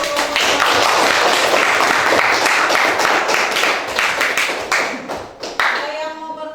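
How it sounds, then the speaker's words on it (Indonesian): A class of students gives a burst of dense hand clapping that stays loud for several seconds, then thins into scattered claps and fades out. Voices are faintly audible near the end. "kita beri aplaus dulu."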